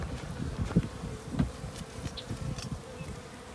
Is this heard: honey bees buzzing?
yes